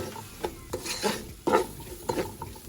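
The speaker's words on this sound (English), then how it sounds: "And I would mix it really well" Spiced onions stirred in a pot for cauliflower maqlooba, with repeated scraping spoon strokes against the metal and a light sizzle underneath, close and uneven in rhythm, no voices.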